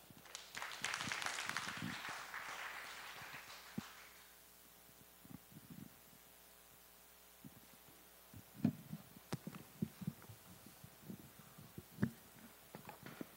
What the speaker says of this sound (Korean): 우리 이석호 교수님 환영의 의미에서 큰 박수와 함께 강의를 시작하도록 하겠습니다.